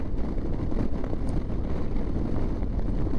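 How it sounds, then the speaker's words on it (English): Wind roars against the microphone while riding a 2025 Harley-Davidson FLHXU Street Glide Ultra fitted with lower fairings, a loud constant buffeting rush with low rumble throughout, no voices. "I'm getting a lot more wind on my kneecaps"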